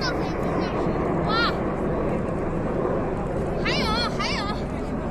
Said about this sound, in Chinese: 歼20来了